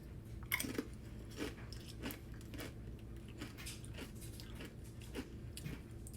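A Doritos chip dipped in sour cream is crunched and chewed close up, a faint run of rhythmic bites and crunches repeating for several seconds with no talking.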